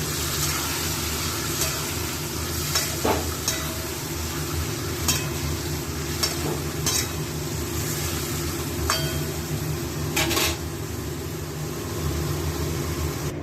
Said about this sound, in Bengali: চিকেনটা কষানো হচ্ছে একটু।